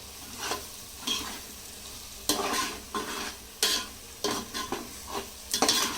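Coarsely ground sesame seeds and peanuts are sautéed in a pan under a soft, steady sizzle, with repeated sharp scrapes and stirs of a spoon at an uneven rhythm.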